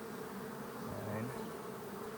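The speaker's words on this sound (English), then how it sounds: "the only thing that's left to do is get all these bees out of here" Honey bees buzz in a steady, dense drone inside an open hive during frame inspection, loud and close with no pauses.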